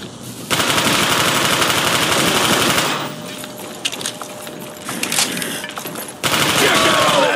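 Submachine gun fire in Black Ops zombies on Plutonium, loud rapid automatic bursts close up, stopping briefly in the middle before a final burst.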